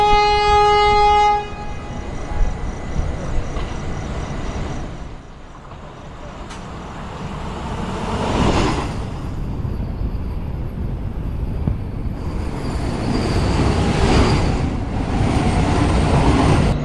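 The Mandovi Express runs along the Konkan Railway in heavy monsoon rain, sounding a loud horn at the start, then a continuous rumble and clatter of the passenger train that swells and stays loud to the end.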